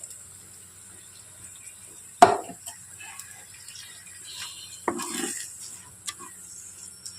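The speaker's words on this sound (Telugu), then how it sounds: "ఇప్పుడు ఇందులో నేను మనం కడిగి పెట్టుకున్న రైస్ వేసేస్తున్నానండి" Washed rice poured into a pot of frying spices for a leg-piece pot biryani made with butter, a sharp close clatter followed by a softer rushing pour over a faint background sizzle.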